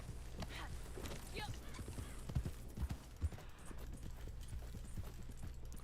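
Horse hooves clip-clopping at a steady walking-to-trotting rhythm in the video game Red Dead Online, fairly faint, under quiet talk, with a few louder hoof hits.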